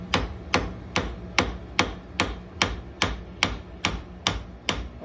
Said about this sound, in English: let's go ahead and peen that rivet over